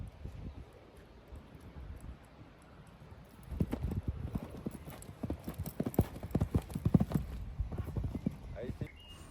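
Horse hooves clip-clop during a jumping session with a mare, quiet at first, then a rhythmic run of louder thuds and clops as the horse moves closer, with outdoor wind and rustling around.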